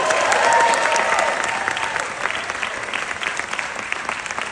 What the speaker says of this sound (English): give Lou a round of applause